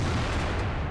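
Tank gun fire in the World of Tanks video game, a loud dense boom filling the whole short moment with heavy low rumble, no talking.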